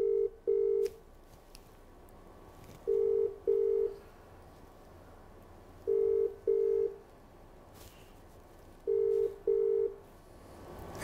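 A telephone ringback tone repeats four times, each a double burst of steady buzzing with pauses between, heard over a quiet background.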